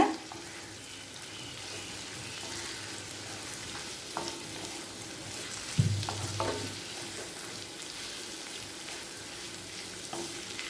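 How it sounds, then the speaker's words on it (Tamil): Omelette pieces stirred gently into spiced egg rice in a pan for an egg-rice lunch dish, with a soft steady sizzle and scattered scraping clinks of the spoon, one louder scrape midway, no talking. "ஆம்லேட் சேர்த்துட்டு மெதுவாக கிளறிக்கலாங்க."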